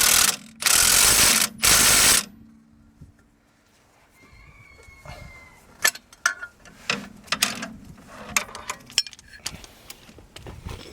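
Ratchet tightening control arm bolts on a Jeep Grand Cherokee: a few loud quick bursts of clicking up front, then scattered lighter metallic clicks and taps of the tool as work continues.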